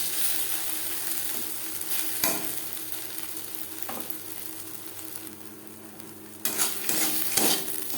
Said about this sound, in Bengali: লো ফ্লেমে 3-4 মিনিট নাড়াচাড়া করে নিয়েছি।